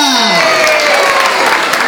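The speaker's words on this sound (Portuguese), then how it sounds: "Uma salva de palmas pra Júlia!" Audience at a children's holiday show clapping for a young girl winner, brisk applause rising as sustained music tones fade at the start.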